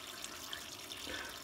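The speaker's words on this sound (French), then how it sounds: "Vous recouvrez d'eau chaude du robinet." Hot water running from a kitchen tap into a large saucepan, a steady close splashing rush with no talk over it.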